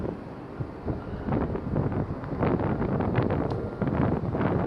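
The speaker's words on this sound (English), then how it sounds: "feel that wind?" Wind blowing outdoors, a steady broadband rush with gusty swells that buffet the microphone, fairly loud and continuous with no voices.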